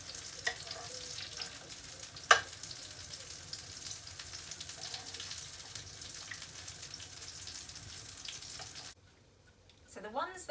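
Steady sizzling of potato cakes frying in a pan over medium heat fills the clip, with occasional clinks, before dropping out near the end.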